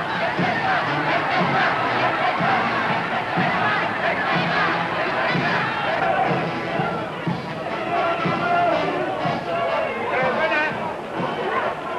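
A crowd cheers and shouts as Belgian volunteers leave to fight Bolshevism, a dense, continuous roar of voices and shouting in old archival sound, with general chatter mixed through it.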